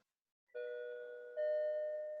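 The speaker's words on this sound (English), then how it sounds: "thank you to whoever just rang your doorbell for timing me" A house doorbell rings indoors with a two-tone ding-dong, the second tone louder and held, clear and fairly close in an otherwise quiet room.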